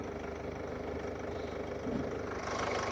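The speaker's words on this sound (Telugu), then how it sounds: "ఇంజన్ స్టార్టింగ్ కండిషన్లో ఉంది" A 2017 Chevrolet Cruze idles with a steady, low engine rumble that holds at an even level throughout, with no voices over it.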